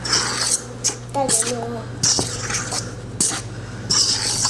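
Pizza dough pulled away from the sides of a mixing bowl, with several scraping, rubbing strokes and light clinks against the bowl alongside a speaking voice.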